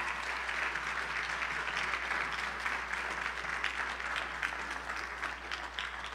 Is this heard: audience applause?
yes